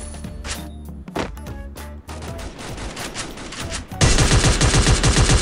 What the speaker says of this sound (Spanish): 2 tiros